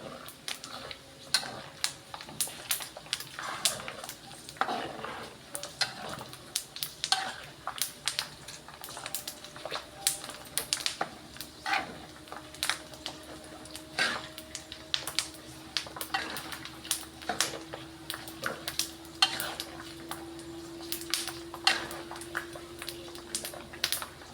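Pork cracklings frying in oil for a second round turning crisp pop and crackle in sharp, irregular snaps over a low background hum, moderately close and fairly quiet.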